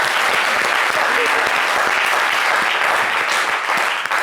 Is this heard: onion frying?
no